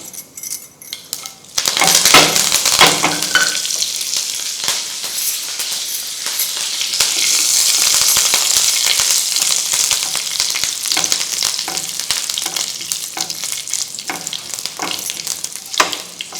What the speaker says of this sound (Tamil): கடுகு நல்லா பொரிஞ்சு வந்தோடனே கருவேப்பிலை சேர்த்துக்கணும்.